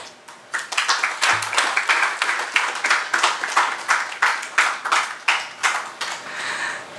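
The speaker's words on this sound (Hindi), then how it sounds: "जो तालियाँ थीं ये दिव्यांश के लिए थी" An audience applauds Manoj Muntashir, the clapping loud and close, settling into a rhythmic beat of repeated waves.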